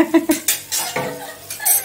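Metal pots, pans and dishes clatter and clink in a home kitchen as they are gathered up for scrubbing, giving several close, sharp knocks and rattles in an uneven rhythm with no talking.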